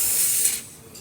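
An espresso machine's steam wand lets out a strong, steady hiss that fades partway through to a quieter trailing rush.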